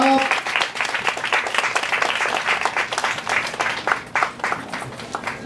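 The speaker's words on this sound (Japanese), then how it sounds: "改めて盛大な拍手をお願いいたします。" Steady audience applause after a wind band concert at a railway festival, a dense continuous patter of many hands clapping at even loudness throughout.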